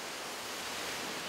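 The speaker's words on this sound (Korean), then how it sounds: "그런데 닭을 잡는 순간 갑자기 바람이 불기 시작했다" Wind gusts strongly outdoors during a Matagh animal-sacrifice ritual in Vayots Dzor, Armenia, a dense, steady roar of broadband rushing air with no voices.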